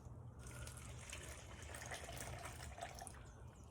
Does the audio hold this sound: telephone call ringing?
no